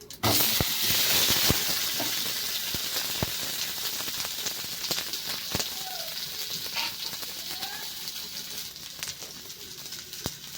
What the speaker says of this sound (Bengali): সর্ষেটা ফুটে উঠলে দিয়ে দেব টমেটো।